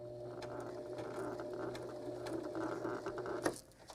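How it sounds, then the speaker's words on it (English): A sewing machine stitches forward and then backstitches with a quiet, steady mechanical whir and clicks, close by, ending in a short clunk. "So now, once again, forward and then back stitch."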